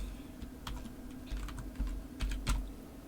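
A name typed on a computer keyboard during GIMP image editing, heard as a few soft, close keystrokes spaced irregularly over low background hum, with no talking.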